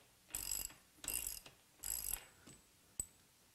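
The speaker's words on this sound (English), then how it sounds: "Now we can go ahead and loosen our axle nut." Ratchet wrench loosening a dirt bike axle nut: three quick bursts of rapid clicking, then a couple of single sharp clicks, close and isolated.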